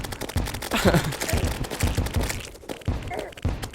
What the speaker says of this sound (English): I'm going to fire jack-o'-lanterns at them